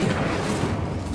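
An Incendio fire spell is cast in Hogwarts Legacy, a dense roaring whoosh of flame with a deep rumbling body, loud and sustained for the whole brief moment.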